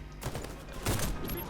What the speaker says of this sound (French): Je balance ma grenade.